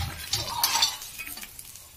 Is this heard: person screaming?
no